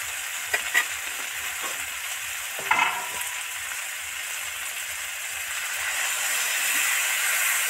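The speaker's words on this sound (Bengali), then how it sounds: "মশলাগুলো সব ভাজা ভাজা হয়ে গেছে। এবার 1-2 মিনিট নেড়েই সঙ্গে সঙ্গে জল দিয়ে দেব।" Ground spices fry in a pan for an amaranth greens dish, giving a continuous hissing sizzle with a few brief scrapes and taps of stirring early on, the sizzle swelling slightly toward the end.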